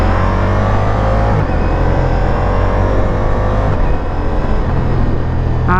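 Ducati motorcycle engine revving hard and snapping through quick-shifter gear changes, a loud continuous roar with brief cuts and pitch drops at each shift, close and unbroken by talk.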